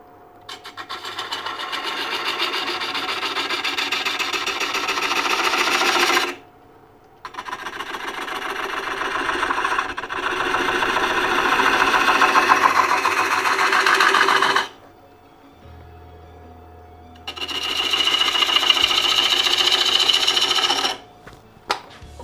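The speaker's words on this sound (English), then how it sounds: "Clean up that inside corner just a teeny bit with the detail gouge." A detail gouge cuts the tenon of a mimosa bowl spinning on a wood lathe, making a loud, close, steady scraping whir in three long passes separated by short quiet pauses, with no talk.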